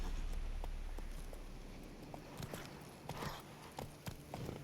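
Hooves of Geralt's horse Roach in the video game The Witcher 3, soft irregular clip-clop steps thudding over a dense ambient bed, growing busier and a bit louder toward the end.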